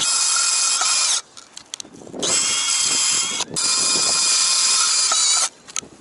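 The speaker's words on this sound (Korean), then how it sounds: "뚫을 다리 표시하고 뚫어주고" A power drill bores holes in vine support posts outdoors, whining loudly in long steady bursts with short pauses and faint handling noises between them, no talking.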